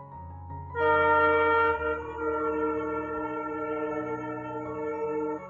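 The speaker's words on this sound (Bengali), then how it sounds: "এখানে ট্রেন এসে দেখি" A train horn blares loud and steady, then holds on as the train rumbles past close by in an Assam village, with no talking.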